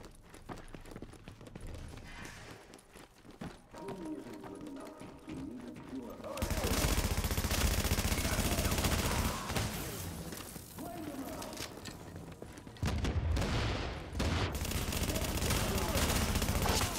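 Gunfire in The Division, sustained rattling bursts of automatic fire that come and go in loud waves, with a voice talking at times.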